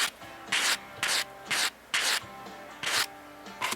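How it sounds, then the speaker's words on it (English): Sandpaper rubbed over a silver coin ring in quick back-and-forth strokes, about seven bursts of close, bright abrasive scratching with brief pauses between them, no voices. "that's just seconds of running this sandpaper over this"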